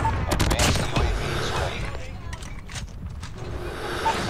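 Rapid fire from a Bizon submachine gun crackles in Call of Duty Mobile, with fast clustered shots near the start, then scattered bursts and a quieter stretch as the match carries on.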